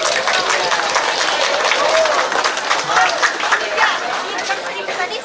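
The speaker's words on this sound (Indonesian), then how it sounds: "Marilah kita beri aplaus yang meriah." Applause from the audience at a school farewell ceremony: sustained, dense clapping from a large crowd with chatter mixed in, steady throughout.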